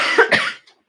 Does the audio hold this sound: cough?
yes